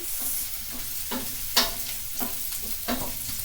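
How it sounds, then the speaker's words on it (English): Onions frying in a pan are stirred with repeated scraping strokes, about six sharp scrapes at a steady rhythm over a continuous close sizzle, with no voices. "I'm going to go stir my onions."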